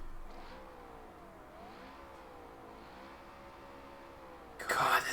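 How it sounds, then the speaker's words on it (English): A Ford Mustang GT350 engine in the BeamNG driving game revs repeatedly in smooth rising and falling swells over a steady idle, then ends in a louder sudden burst. "I'll rev it up here for you."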